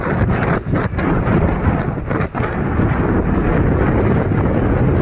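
Strong beach wind roaring and buffeting the microphone, loud and constant throughout with only small dips.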